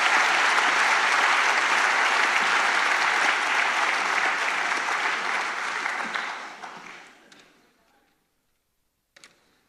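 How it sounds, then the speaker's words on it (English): Yacht race crew members for a round-the-world sailing race applaud themselves in a loud, dense burst that tapers off and dies into near silence, followed by a couple of faint clicks. "Give yourselves a round of applause, guys."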